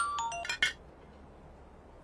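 A phone rings in a dramatic film scene, giving a quick run of short electronic chiming tones, then falling quiet before a single tone returns at the end. No one speaks.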